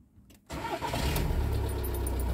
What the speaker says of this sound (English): now we're going to try and start the engine